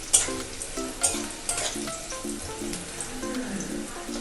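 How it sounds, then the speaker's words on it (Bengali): Bori lentil dumplings and bitter gourd fry together in hot oil for coconut shukto, a close, steady sizzle broken by several rhythmic spatula stirs and scrapes across the pan. "বড়ি আর উচ্ছে আমি একসাথেই ভাজছি।"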